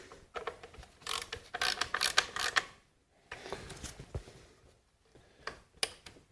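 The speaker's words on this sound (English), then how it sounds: "I'll use a ratchet to snug them down, get the coil locked down into place." A hand ratchet snugs down the ignition coil bolts on a Dodge/Chrysler/Plymouth 2.7L engine, giving bursts of close, crisp clicking in uneven runs separated by short pauses, with no talk.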